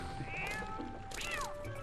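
Two rising-and-falling meows from a low-poly cat in The Legend of Zelda: Twilight Princess HD, heard over a steady game background hum and a sustained tone.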